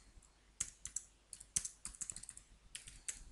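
A password goes in on a computer keyboard in quiet bursts of crisp key clicks, uneven and close, with short pauses between clusters of keystrokes.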